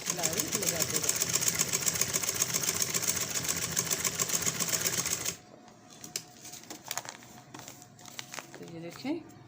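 A sewing machine stitches a shirt sleeve cuff with a loud, steady, fast whir for about five seconds, then stops abruptly and leaves quieter handling noises and a voice.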